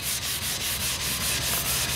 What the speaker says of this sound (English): Now we're wet sanding it down.